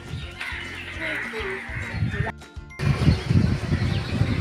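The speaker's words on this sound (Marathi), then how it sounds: "पक्ष्यांचा थवा चाललाय घरी संध्याकाळची वेळ झाली आहे" A flock of crows caws in scattered overlapping calls at evening, with other bird calls and a low murmur mixed in, and the noise gets busier toward the end.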